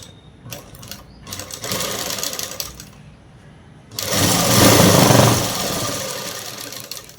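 A sewing machine stitches umbrella-cut fabric in short, stop-start bursts, then runs in one louder, sustained buzzing stretch before easing off. No one speaks.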